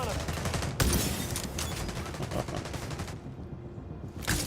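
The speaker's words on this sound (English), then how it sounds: "Let's try our sniper." Sniper rifle shots in The Division Resurgence video game, a sharp loud crack followed by further reports and steady game noise, ending in a brief near-silent gap and another hit.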